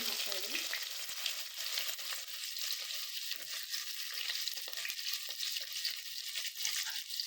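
Mustard seeds, curry leaves and onion frying in hot oil for bisi bele bath, a steady bright sizzle with faint crackles and stirring, close and continuous with no talking.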